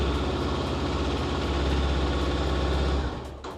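A Honda CB500F fuel-injected motorcycle engine runs at a steady, loud, close idle with a low rumbling pulse, then cuts off sharply near the end.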